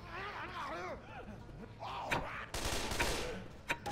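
Players trading gunfire in a Left 4 Dead 2 versus match, with a dense flurry of shots near the end over chattering game sounds and voices.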